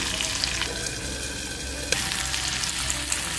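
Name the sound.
sautéing ingredients in a pan for fish curry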